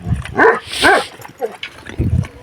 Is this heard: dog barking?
yes